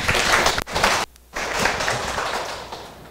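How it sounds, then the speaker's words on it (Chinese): An audience at a lecture session claps to welcome a lecturer, with a dense burst of applause that stops briefly and then resumes before tapering off. "请大家用掌声欢迎"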